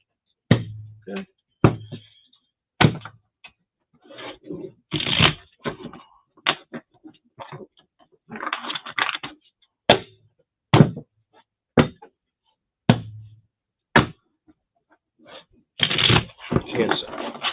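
Repeated bursts of card shuffling with sharp riffles and taps, coming in uneven rhythm close up, with a few pauses between rounds.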